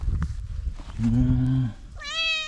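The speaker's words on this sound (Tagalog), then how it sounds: "Ito yung aking pusa." Pet cat at home meowing up close, two drawn-out meows with a softer sound between them, loud and distinct over background noise.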